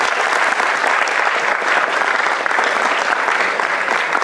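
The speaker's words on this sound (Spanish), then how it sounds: "Pero eso merece un aplauso." A Dominican audience applauds during a talk on musicians and composers from Moca, a steady, dense clapping that fills the room at even loudness for the whole stretch, with no voices breaking through.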